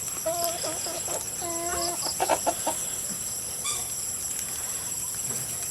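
Backyard chickens clucking nearby in a flock, a string of short, throaty clucks and murmurs spread through the clip, with a few louder calls over faint background noise.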